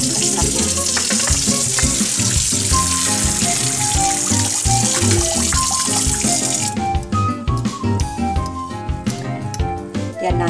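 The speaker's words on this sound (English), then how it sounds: "So I'm gonna drain them now." Boiled cauliflower water pours out of a pot into a kitchen sink in a loud, continuous rush that cuts off after several seconds, with background music underneath.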